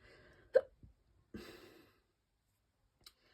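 A person hiccups during a calm spoken reading, one sharp hiccup followed by a short breathy exhale, then a faint catch after a pause, in an otherwise quiet room without speech.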